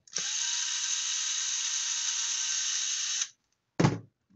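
Small screws are backed out of the bottom adapter on a Swinging Stand 200/350: a steady, close whirring runs unbroken for about three seconds, then stops, and a brief second burst follows.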